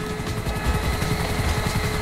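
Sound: helicopter engine in the video game Grand Theft Auto 5

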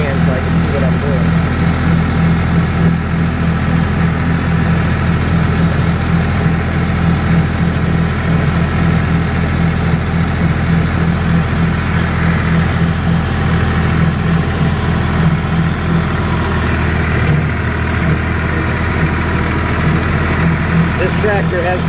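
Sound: small tractor engine running

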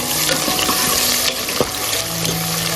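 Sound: crushed garlic frying in oil

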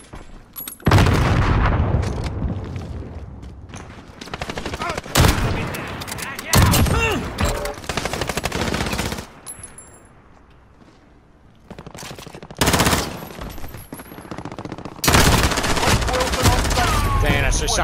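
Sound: gunfire in Call of Duty video game

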